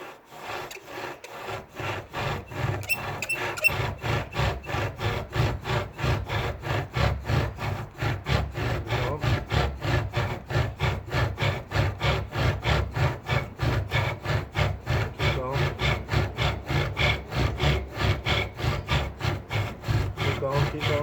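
Bow drill spindle rubbing against wood to make fire outdoors, a steady fast rhythmic sawing rasp of back-and-forth strokes, close and continuous throughout.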